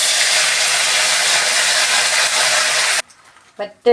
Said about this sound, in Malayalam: കഴുകി വെച്ചിരിക്കുന്ന കറിവേപ്പില ഇട്ട് കൊടുക്കാം